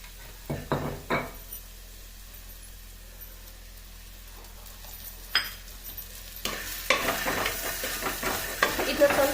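Salt-soaked unripe jackfruit cooking in oil in a pan for a stir-fry: a few close utensil knocks early on, then a rising, busy sizzle with stirring that fills the final seconds.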